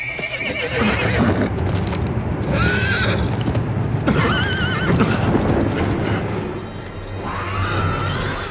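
In the video game Diablo IV, a horse whinnies several times in drawn-out, wavering calls, with hoof clip-clops and busy game ambience around them.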